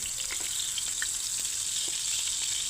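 Oil and butter sizzle steadily in a frying pan, a constant hissing crackle with small pops and no voices.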